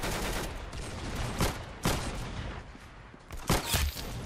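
Shots fire in the Roblox shooter game Arsenal: rapid, crackling gunfire bursts in irregular volleys with a few sharper, louder shots standing out, steady and close with no talking.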